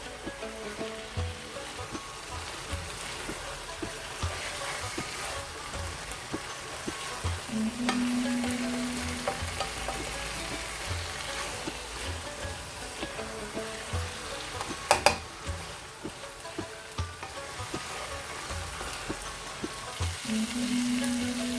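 Mutton sizzles in hot oil in a karahi while it is stirred, a steady, dense frying hiss with occasional scraping clinks from the spoon against the pan.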